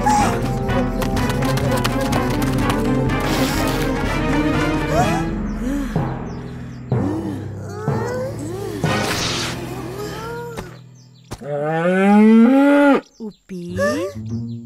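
A cow at a Hari Raya Aidiladha sacrifice moos loudly and repeatedly in a cartoon scene, long drawn-out lowing calls over music and background sounds, with a final close, loud moo.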